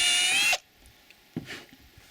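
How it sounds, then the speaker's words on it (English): A power drill runs at slow speed with a 15/64 bit, boring into HDPE plastic for a short, loud half-second burst, then stops, followed by a few soft knocks and handling noises. "Drilling down just about the depth of the post or a little bit deeper with our 15/64 bit."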